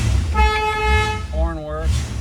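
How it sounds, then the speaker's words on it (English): A 1966 Ford Mustang convertible's horn gives two short toots in quick succession, close and clear over a low idling rumble. "Horn works."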